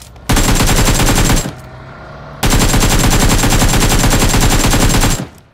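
Two long bursts of rapid automatic gunfire from the mobile game PUBG, loud and close, with a sharp start and stop and a short quieter gap between them, and no talk.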